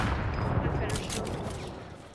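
Sustained bursts of gunfire in a multiplayer shooter video game, with explosion-like booms mixed in, loud and continuous, with a sharp rise in bright crackling shots partway through.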